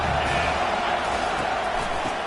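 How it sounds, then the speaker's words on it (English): Stadium crowd at a college football game on a big third down, a loud, constant roar of many voices from the stands, steady across the clip. "Big 3rd down as the crowd gets behind this defense."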